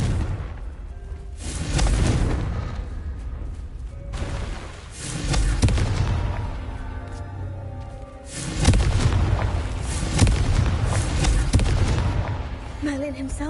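Repeated Confringo fire-spell blasts in Hogwarts Legacy on PS5, booming, thudding explosions in several loud bursts with rumbling tails, interleaved with game effects and brief spoken voice lines.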